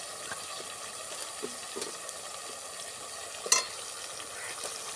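Chicken with ginger garlic paste sizzles quietly in a pan, a soft continuous fry punctuated by a few faint stirring scrapes and one sharper clink of a utensil.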